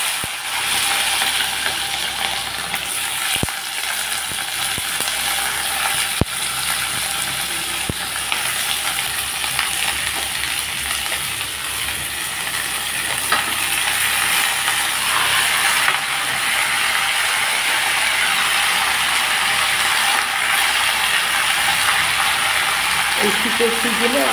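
Vegetables fry in mustard oil with five-spice seeds in a wok, making a steady, broad sizzle that stays loud and close throughout, with a few faint clicks and stirring noises.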